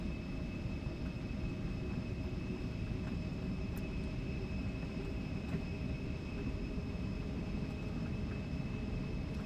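Steady, loud roar of X-Crafts E190 jet engines at takeoff thrust during the takeoff roll in X-Plane 12, a continuous broadband rush with a faint high whine, unbroken for the whole stretch.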